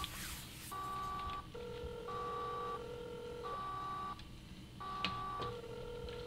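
A telephone keypad in the video game INFRA, in a water treatment plant control room, beeps out a steady sequence of about six dialing tones, each held roughly half a second with short gaps, clear over a low background hum.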